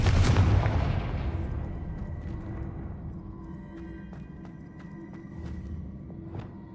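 Confringo fire spell in Hogwarts Legacy, a heavy booming explosion at the start that trails off into a long rumbling decay, with faint clicks and small impacts afterward.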